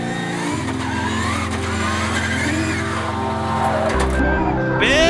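A drift car's engine screams at high revs during a British Drift Championship round, with tires squealing and skidding as it slides four wheels off track on initiation, loud and close throughout.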